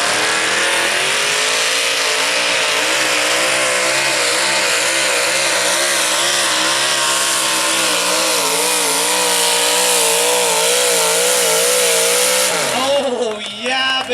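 A scratch-built modified mini tractor pulls at a tractor-pull event, its engine roaring loud and sustained with wavering pitch for about thirteen seconds before abruptly dropping off at the end.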